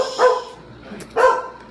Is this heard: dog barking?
yes